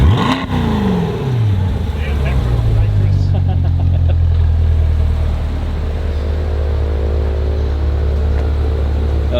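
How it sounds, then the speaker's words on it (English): A 2020 C8 Corvette engine revs sharply upward, then settles into a loud, deep, rumbling drone close by, with voices speaking over it. "Rev it up."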